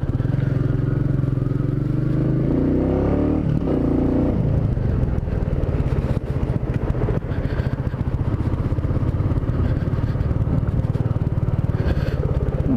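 A Royal Enfield Meteor 350 motorcycle ridden through city streets: a steady single-cylinder engine drone with a gear change and wind rush, close and continuous.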